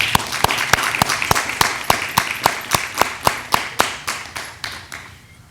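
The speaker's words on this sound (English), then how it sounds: "so let's give him a round of applause." Evenly spaced, steady claps ring out for a graduate at a fire academy graduation ceremony, about fifteen sharp hand claps in a slow, regular rhythm, fairly close and clear with no talking.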